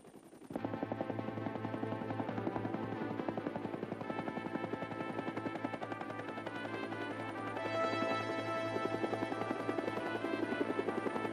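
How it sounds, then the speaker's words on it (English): A helicopter in an animated Gumby cartoon gives a steady, close whirring rotor drone with an even chopping pulse that runs unbroken throughout. "Well, there's the helicopter."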